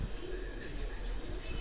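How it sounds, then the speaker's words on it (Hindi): Breeder pigeons coo steadily in a loft, a soft, continuous low burble that runs throughout against a constant background hiss. "ये ब्रीडर कबूतर हैं"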